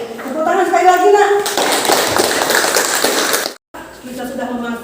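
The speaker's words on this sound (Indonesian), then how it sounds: "Tepuk tangan sekali lagi nak." Schoolchildren in a ninth-grade classroom clap their hands together in a dense burst lasting about two seconds, set between stretches of a teacher speaking.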